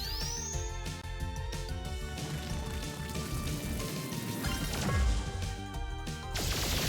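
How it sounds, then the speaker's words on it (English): Solar Rain combo attack in the Sea of Stars video game, a dense burst of crashing, smashing impacts with a rain-like patter over game music, building to a louder hit near the end. "Let's do a combo on Garl's side, the Solar Rain."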